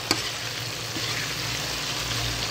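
Burong tilapia, a fermented rice-and-fish paste, frying with tomatoes in a pan, giving a steady, continuous sizzle with a brief clatter at the start and no voices.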